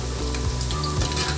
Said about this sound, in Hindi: तेज़ आंच पे इसको फ्राई कर रहे हैं प्याज को।